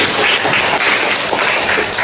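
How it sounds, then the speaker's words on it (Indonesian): Students in a classroom lesson clap together in a short, even stretch of loud applause, with no clear talk over it. "Berikan tepuk tangan buat"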